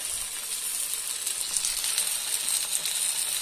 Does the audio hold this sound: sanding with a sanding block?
no